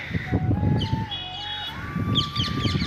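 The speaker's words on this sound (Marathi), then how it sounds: "पाच सहा पोपट या ठिकाणी बसलेले आहेत छोटे छोटे" Five or six small parrots chirp and tweet in quick, shrill bursts at Paranda Fort over a steady low rumble, with a thin whistling tone running underneath.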